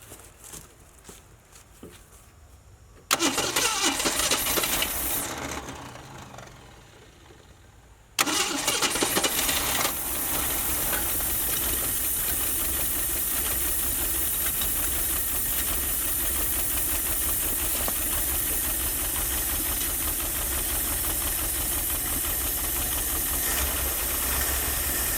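An old Ford Maverick that sat seized for 26 years cranks, catches after a couple of tries and settles into a loud, steady, close running idle.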